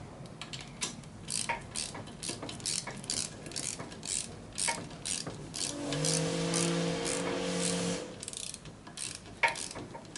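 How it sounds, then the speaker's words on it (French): Ratchet with a 14 mm socket tightening the fork bolts on a Peugeot Citystar 125 scooter: a long run of quick, close metallic clicks in steady bursts, with a brief humming tone partway through and no speech. "Donc là, avec ma douille de 14, je resserre ma fourche."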